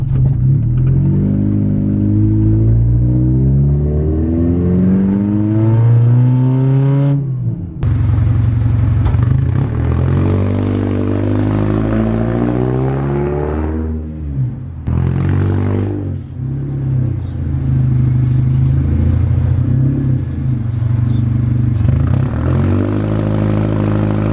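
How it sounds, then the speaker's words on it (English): A Honda CR-V with a transmission problem is floored from a dead stop, its engine droning loudly and rising in pitch through several long sweeps with abrupt drops between them, close and continuous with no talk. "Dead stop, and now I'm gonna floor it."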